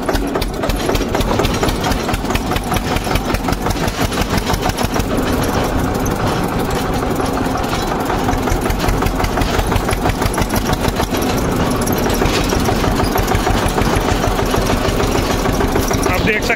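An Eicher 241 Xtrac tractor engine runs steadily in fifth gear with a rapid, even diesel chugging and knock, loud and close throughout, with a voice speaking over it at times.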